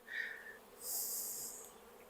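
Honeybees buzzing at an open, calm beehive, a soft close drone rising and fading as individual bees pass near, with no talk.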